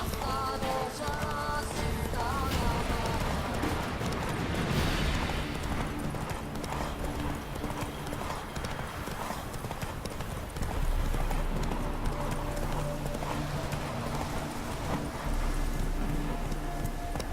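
Roach the horse gallops in The Witcher 3, her hooves beating a fast, continuous clip-clop rhythm up close, laid over game music and ambience.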